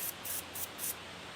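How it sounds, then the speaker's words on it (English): Dye is sprayed onto a sola wood orchid in short hissing bursts, four quick sprays close by and fairly quiet, with no talking. "I'm just gonna spray the little nub."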